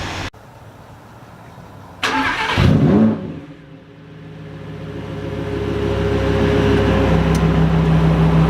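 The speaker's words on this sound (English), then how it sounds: "Rev it up in Corsa mode." Lamborghini Huracan Performante in Corsa mode starting up with a sharp burst, then a loud rev that drops back and settles into a steadily rising idle drone, heard close and alone.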